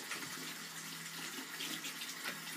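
Tap water running steadily into a salon sink basin while brushes and combs are rinsed during disinfection, a constant close splashing flow with no talking.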